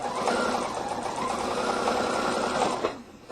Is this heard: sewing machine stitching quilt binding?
yes